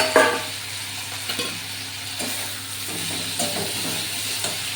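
Stirring fried cauliflower with fish and spices in a hot pan: soft scraping strokes at an irregular pace over a steady sizzle, with a brief clatter at the start.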